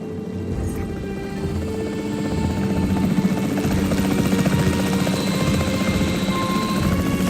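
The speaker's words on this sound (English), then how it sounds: "The priority needs to be tranquilizing it with the capture team chopper." A capture team helicopter in the video game Jurassic World Evolution 3, its rotor giving a steady loud whirring drone that swells slightly and holds, with no speech.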